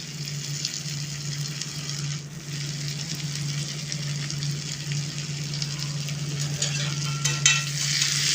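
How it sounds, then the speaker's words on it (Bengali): Chicken pieces coated with ginger, garlic, turmeric, ground coriander, cumin and garam masala fry in a dry pan with no oil, giving a steady, close sizzle with a low hum throughout and no talk. "দিয়ে মশলাগুলো একটু ভালো করে ভাজার জন্য"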